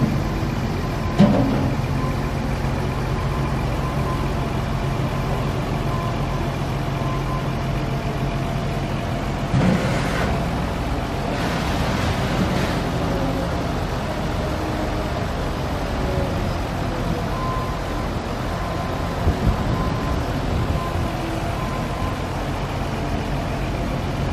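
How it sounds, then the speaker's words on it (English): A tractor on a dairy farm driving sand to the cow free stalls, a steady low engine rumble that holds for a long stretch, with a few brief clanks, fairly close and without talk. "So this is the tractor coming to put the sand in the free stalls."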